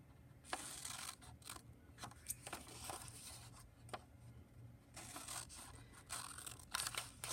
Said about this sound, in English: I'm going to take some scissors and I'm going to cut on that line very, very carefully